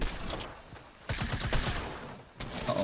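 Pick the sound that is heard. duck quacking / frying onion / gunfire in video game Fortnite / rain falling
gunfire in video game Fortnite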